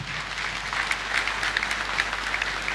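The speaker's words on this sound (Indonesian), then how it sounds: "Mari kita beri tepuk tangan yang meriah." An audience at an evening launch event in Central Sulawesi breaks into dense, steady applause, moderately loud, with a low hum beneath and no talk over it.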